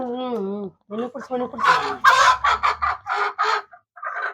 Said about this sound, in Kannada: ಇವು ನಿಜವಾದ ನಾಟಿಕೋಳಿ ಆಗಿರ್ತಾರೆ